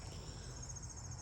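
Wasps buzzing around the exterior deck of a house, a steady high insect drone held throughout against a dense low background hum, with no speech.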